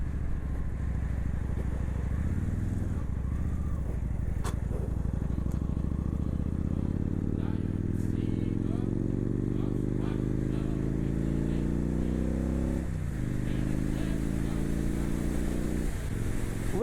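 A naked motorcycle engine hums and revs while riding in cold weather, the pitch climbing steadily through acceleration, dropping at a gear change and rising again, with constant wind rush over it and a voice talking.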